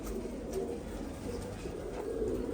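Pigeons coo softly in low, murmuring calls over a constant background of faint noise.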